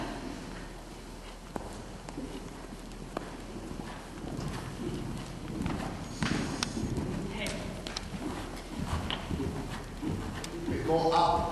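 Horse hooves clip-clop through a dressage canter at a show, a steady rhythmic beat running throughout under a trainer's speech.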